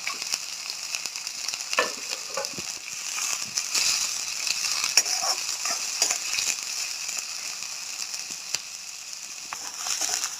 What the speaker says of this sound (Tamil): வெங்காயம் சேர்த்துக்கோங்க. பொடிசாக கட் பண்ணிக்கோங்க பெரிய வெங்காயம்.